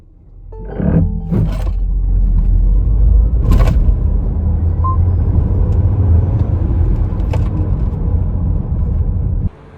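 GWM Haval H6GT PHEV plug-in hybrid SUV accelerating hard from 0 to 100 km/h, a loud sustained road roar and rumble building for several seconds before cutting off sharply at the end, with no talk.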